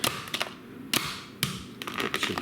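Knife chopping ham finely for Spanish croquettes, a series of sharp taps and thuds on a board, irregular, with a few louder strikes standing out, close by.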